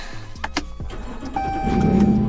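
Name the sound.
car engine starting, running rough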